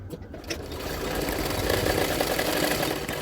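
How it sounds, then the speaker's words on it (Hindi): A sewing machine stitching a 4-inch hook strip onto a blouse, a steady fast mechanical whirr that builds after a brief start and runs continuously up close. "लेफ़्ट साइड सिलाई कर रही हूँ अभी"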